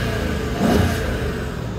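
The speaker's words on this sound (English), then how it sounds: "I'll just blip it and see, hopefully we could be able to hear that wonderful V8." A 2011 Mercedes-Benz CL500 V8 idles smoothly, then gives a single short throttle blip that swells and settles back, heard close and steady with no talk.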